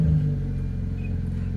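A 2017 Honda Accord with mufflers removed and no exhaust tips or pipes idles close by, giving a steady, deep rumbling drone with no revving.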